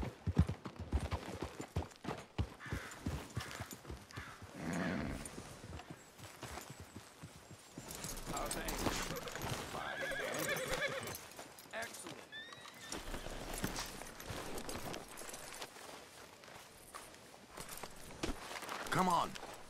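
In a Red Dead Redemption 2 town scene, horses clip-clop steadily at a walk and one gives a whinny. Hoofbeats stay close and continuous over ambient game sound.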